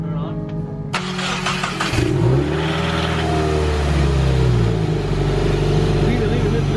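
A Subaru fitted with a front-mount intercooler cranks with a few clicks, fires up and revs, then settles into a rumbling idle, heard close while people talk nearby.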